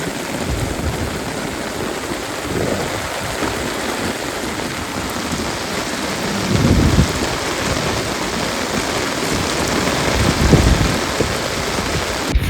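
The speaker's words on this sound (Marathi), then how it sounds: "गाईज बघा किती पाऊस आला बापरे" Heavy rain falls over open farm fields, a loud, steady hiss close by, with low rumbles of thunder rolling in twice and no talking.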